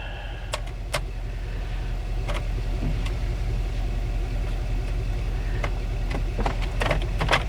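A car with a 4T65E automatic transmission fitted with a joystick manual shift lever runs steadily on a test drive, a continuous low engine drone with occasional sharp clicks and knocks over it and no talking.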